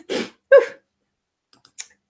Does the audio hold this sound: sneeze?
yes